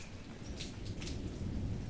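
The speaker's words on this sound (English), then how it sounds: "Oh, thunder sounds so great, doesn't it?" Steady rain pours outdoors with a low rumble of distant thunder beneath it, a continuous broadband hiss at moderate-low level with no speech.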